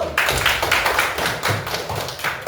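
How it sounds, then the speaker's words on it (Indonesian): A classroom of students applauds, a dense run of hand claps close by that fills the whole stretch steadily with no talking over it. "Oke, tepuk tangan dulu."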